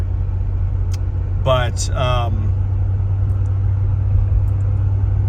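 Inside the cabin of a 1972 Ford Thunderbird being driven with the window up, a steady low engine and road rumble hums throughout, subdued and even, with someone briefly speaking over it.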